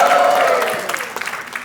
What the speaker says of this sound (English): just give me a cheer because I need it